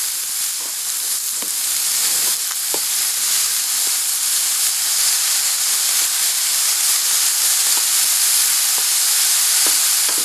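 Broccoli, celery and onions stir-frying for ginger chicken, a continuous loud sizzle and steamy hiss filling the pan, with occasional scrapes and clicks of stirring and no voices.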